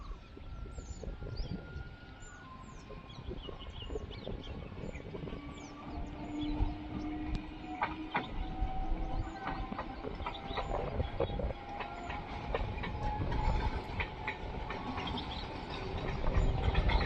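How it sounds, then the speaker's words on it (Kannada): A train approaching and passing at Bangarapet, a low rumble that builds steadily with clanking wheels and a drawn-out horn, birds chirping faintly in the background. "ಬರ್ತಿದೆ ಟ್ರೈನ್ ನೋಡಿ"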